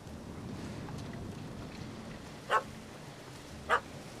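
A dog in The Witcher 3 video game gives two short, sharp barks spaced about a second apart, fairly close, over a steady windy outdoor ambience.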